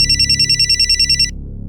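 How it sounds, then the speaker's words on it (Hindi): A phone ringtone trills steadily for about a second, a bright electronic ring that cuts off abruptly, leaving a low background hum. "तुम्हारा फोन बज रहा है"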